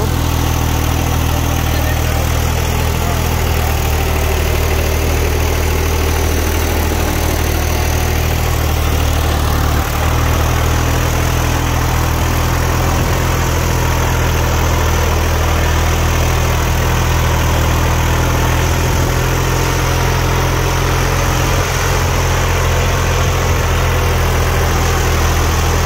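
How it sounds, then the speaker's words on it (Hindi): A New Holland 6510 Excel or John Deere 5405 tractor runs a rotavator through a field, its engine a loud, steady, continuous drone with a heavy low hum that holds unbroken throughout. "300 से लेकर 400 आरपीएम तक तोड़ रहा है ट्रैक्टर। और ये रोटावेटर का परफॉर्मेंस आप लोग देख लो"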